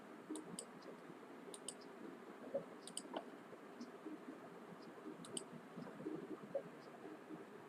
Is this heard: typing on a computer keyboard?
yes